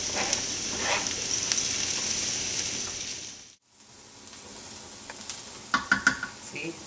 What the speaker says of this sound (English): Now you add your garlic.